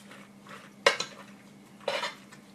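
Melted butter gets stirred in the same pot used to boil the pasta: two distinct metal clinks and scrapes of a utensil against the pot over a quiet background, close and moderately loud, with no speech.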